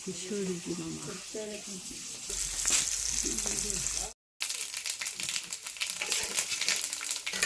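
Bay leaf and cumin seeds sizzle steadily in hot oil, a continuous close frying hiss with clinks of stirring, while a voice talks over it.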